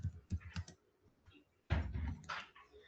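Bursts of typing on a computer keyboard, quick clusters of key clicks followed by a brief pause and then a louder, denser flurry of keystrokes, close and clear with no voices.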